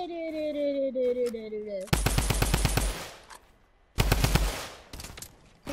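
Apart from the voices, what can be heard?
gunfire from enemies shooting in a video game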